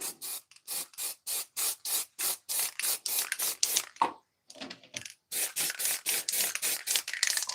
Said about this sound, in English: Couple of shakes, give it a spray.